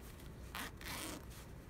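A zipper sewn into fabric slides open and closed in two short, quiet rasping pulls, close by with no talking.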